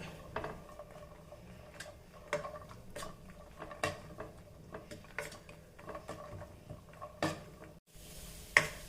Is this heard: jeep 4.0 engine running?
no